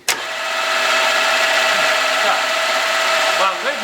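A motor switches on abruptly and holds a loud, steady high-pitched whine at raised revs for several seconds, then dips near the end; close and continuous with no talk over it.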